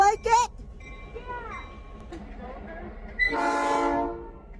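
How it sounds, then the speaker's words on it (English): Train horn blowing loudly near the end in one long bright blast over the low rumble of a train, with excited voices and a child's calls heard earlier. "That's a big horn."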